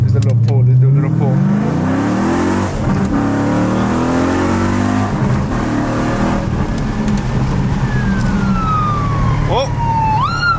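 A Dodge SRT 392 accelerates hard with a loud, close engine roar that climbs in pitch, dips briefly at a gear change, then keeps pulling steadily.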